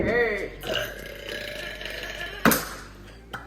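Loud, drawn-out burps from a contestant in a burp contest, with a long croaking belch at the start, a sharp burst midway and a shorter one near the end, close and clear.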